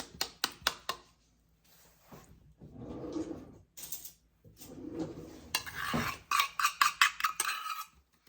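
Brown sugar gets stirred into melted butter in a bowl, with a utensil scraping and tapping in irregular bursts, including quick knocks at the start and end, close and fairly loud.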